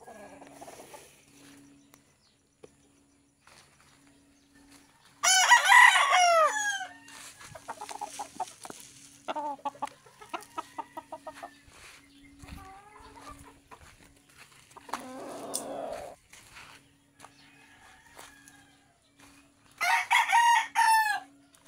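Chickens cluck on and off while a rooster crows loudly twice, once early and once near the end, over a steady low hum.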